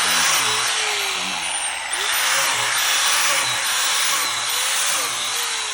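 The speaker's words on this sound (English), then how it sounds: "This drill bit will get kind of hot" A power drill bores holes into a log for mushroom inoculation, its high steady whine running throughout, with a brief pitch dip near the two-second mark and a quick word spoken.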